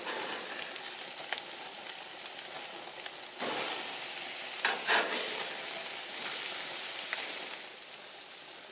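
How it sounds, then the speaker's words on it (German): Beef patties sizzling on a grill right after being flipped for a smoky sirloin burger: a close, dense hiss and crackle, swelling louder midway with occasional pops and scrapes. "dann ist jetzt mal Zeit, die Fleischpatties zu wenden."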